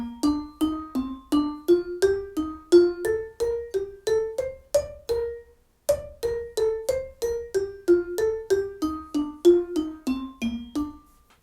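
Vibraphone struck in a fast alternating right-left sticking exercise, bright metallic bar notes rising and falling in quick even runs; close and clear, played alone with a brief pause midway.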